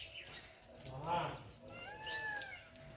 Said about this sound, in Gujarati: અત્યારે મોરલો બોલે છે